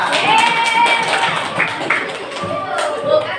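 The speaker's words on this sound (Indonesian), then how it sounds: "Tepuk tangan kelompok kita semua." Students in a classroom applaud their discussion groups with a short, fairly soft patter of hand claps, mixed with voices and a murmuring crowd.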